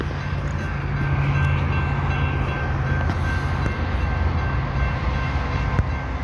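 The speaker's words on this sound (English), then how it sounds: "We got another train coming." A Union Pacific intermodal freight train rolls steadily past a road crossing, a loud continuous rumble of wheels and cars with faint clicks and a sharp knock near the end; no talking.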